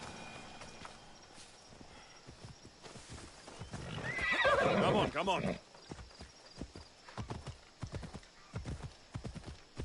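A horse whinnies loudly mid-clip while hooves clop in an uneven rhythm throughout, with someone speaking briefly near the start, in the video game Assassin's Creed Odyssey.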